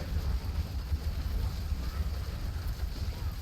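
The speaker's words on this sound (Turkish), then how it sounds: "Rüzgar geliyor." Wind in the Diablo 4 game, a steady low rushing gust that stays even and fills the background.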